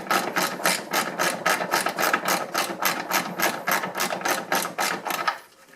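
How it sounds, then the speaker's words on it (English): Hand ratchet backing out body and running board bolts on a classic VW Beetle, a fast steady run of sharp metallic clicks in even rhythm, close and clear, stopping abruptly at the end. "I'm going to take out the first 3 plus the running board bolt over here."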